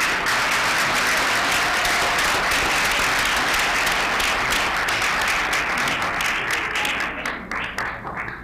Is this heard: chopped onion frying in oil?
no